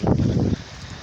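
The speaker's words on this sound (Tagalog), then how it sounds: "Pero sobrang lakas yung hangin guys, parang ilipad na yung bubong dito." Strong typhoon wind buffets the microphone in a heavy low roar for about half a second, then drops to a softer, steadier rush of air.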